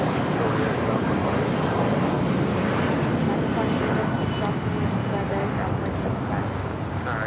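Airbus A330neo widebody airliner from Lisbon at LAX, its engines a continuous loud rumble and roar filling the whole stretch, with a voice talking over it.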